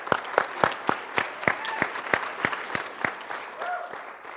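A modest audience at a high school concert choir performance claps in a sparse, fairly even rhythm of distinct, moderately loud hand claps. A few brief tonal voice sounds rise over the clapping.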